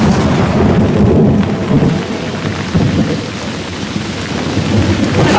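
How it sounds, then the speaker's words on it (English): Heavy rain pours down during a storm on a remote island, with deep rumbling thunder rolling underneath. The downpour stays loud and continuous throughout, and no one speaks. "That's rain."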